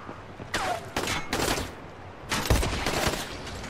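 Several sharp gunshots ring out in bursts during combat in the video game Dying Light: The Following, spaced irregularly with short gaps between volleys.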